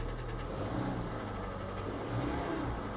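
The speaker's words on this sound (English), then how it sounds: "Engine's making a little noise there." A car engine runs steadily with a low rumble, its pitch rising slightly now and then, close by and without talk.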